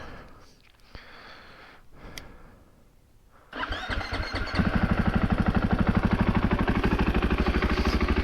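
A 2021 KTM 500 EXC-F dirt bike cranks and fires up, its engine catching after quieter ambient noise and settling into a loud, close, steady rhythmic idle thump.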